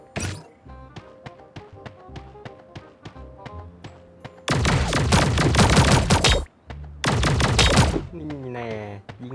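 Rapid gunfire in the Sausage Man video game: a string of evenly spaced single shots followed by two long, loud bursts of continuous automatic fire, close and dominant.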